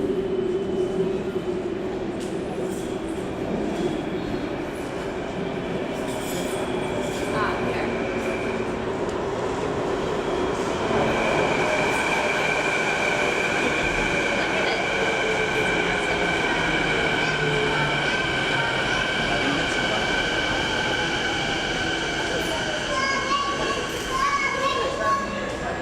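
A Canada Line metro train pulls into an elevated station at Vancouver airport, its rumble swelling and rising whines and faint wheel squeals building over about twenty seconds, with people talking and children's voices around.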